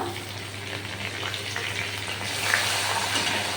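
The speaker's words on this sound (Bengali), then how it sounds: "একটু জিরে ফোড়ন দিলাম দিলাম দুটো তেজপাতা" Cumin seeds and two bay leaves hit hot oil that was just used to fry chhana balls, giving a steady soft sizzle and crackle that swells slightly toward the end, with no talking.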